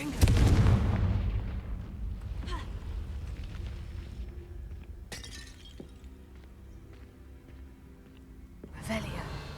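A Confringo fire-blast spell from the Hogwarts Legacy game goes off as a loud, booming burst at the start, with scattered crackles and impacts following and a second burst near the end; game voices talk at times.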